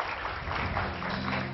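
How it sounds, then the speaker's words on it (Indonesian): Sustained applause from a classroom audience cheering a volunteer at a science lesson on ice melting, a steady, dense patter of many hands filling the whole moment with a low hum underneath. "Tepuk tangan untuk sahabat kita."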